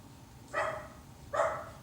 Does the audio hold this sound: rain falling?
no